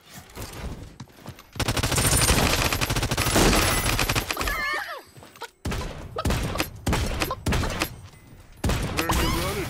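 Rapid gunfire in the battle royale video game Realm Royale, with dense, loud bursts of automatic shots and thuds running through most of the stretch. Brief pauses break the volleys, followed by further sharp bursts.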